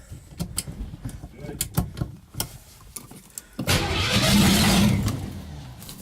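A Ford Maverick truck sits idling while the selector is clicked through the gears, a person talking over it, then the engine note swells loudly as it is shifted into drive.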